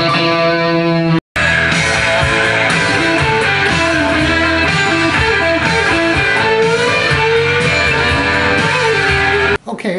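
Distorted electric guitar plays a flowing solo phrase with sustained, bending notes, loud and continuous apart from brief cut-outs at the edges.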